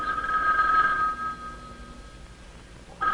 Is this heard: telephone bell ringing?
yes